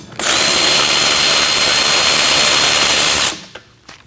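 Power tool, likely an impact driver or drill, removing the rear hub assembly bolts on a 2011-2016 Kia Optima: one loud, steady whirring run lasting about three seconds, then stopping, followed by faint handling clicks.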